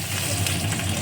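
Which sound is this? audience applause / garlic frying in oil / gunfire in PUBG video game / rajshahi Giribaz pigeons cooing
garlic frying in oil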